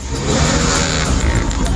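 Motorcade vehicles of President Joko Widodo passing on Jalan Gunung Bawah Karaeng in Makassar, a loud close engine roar and tyre rush sustained for under two seconds.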